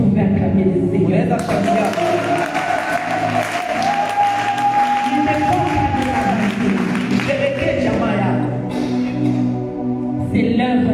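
A church congregation applauds and cheers in praise of the Lord, loud sustained clapping and crowd voices filling the room, with shouting and a sung or held tone rising through the middle.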